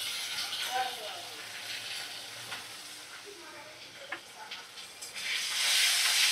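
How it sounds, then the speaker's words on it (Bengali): Spices frying in a pan with chopped tomato and a spoon of yogurt over medium flame, a soft steady sizzle with scraping stirs, the hiss swelling louder toward the end. "ভালো করে মশলা কষিয়ে নিচ্ছি।"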